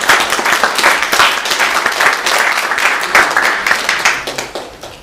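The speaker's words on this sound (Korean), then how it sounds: "우리 다 같이 박수로 축하드리겠습니다." A church congregation at Sunday worship breaks into warm, steady applause of many hands that tapers off over about five seconds.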